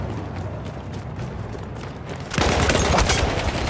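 Dense gunfire crackles through Battlefield 1 combat, a steady background of shots that swells into a louder, sustained burst of firing partway through.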